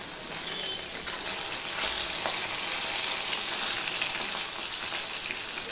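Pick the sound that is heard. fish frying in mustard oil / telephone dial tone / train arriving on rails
fish frying in mustard oil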